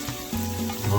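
Jalapenos frying in oil in a pan, giving a steady close sizzle with a faint stirring texture, alone for about a second with no voices.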